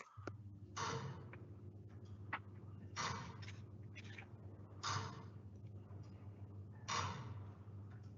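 Big Ben's clock mechanism ticks slowly and evenly, one soft tick roughly every two seconds, faint over a steady low hum inside the clock tower.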